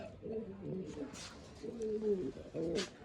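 Domestic pigeons cooing in a loft, several low throaty coos in a row, close and fairly loud, with a couple of brief airy bursts that could be wing flaps.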